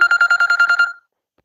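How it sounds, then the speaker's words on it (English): A phone rings loudly and close by, a rapid trilling electronic ring pulsing about ten times in under a second before cutting off into silence. "I received a phone call."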